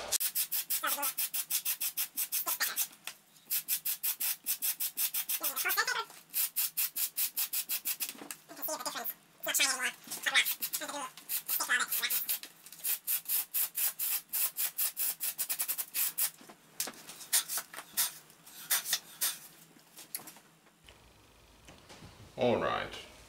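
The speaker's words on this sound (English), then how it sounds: "As usual, I start by roughening the stuff up." Foam sword material is roughened by hand with rapid, rhythmic scratchy rubbing strokes in close-up bursts, with brief pauses between them and a person talking at times.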